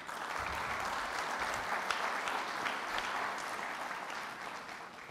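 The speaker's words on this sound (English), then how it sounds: "Please welcome and give him a big round of applause" A conference audience at a horse racing event in Rome applauds steadily to welcome a speaker. The clapping is a dense, even wash heard at a distance, fairly faint and without speech.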